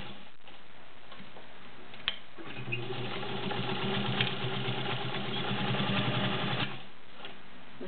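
A vintage heavy-duty White 3954 sewing machine, 1.3 amp, with a size 16 needle, stitches through five layers of denim with a steady close mechanical whirr and ticking for about four seconds, starting and stopping with faint clicks.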